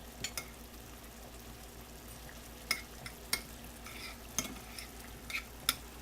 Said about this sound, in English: mix all of that up in there. And kind of press it down in and the sides.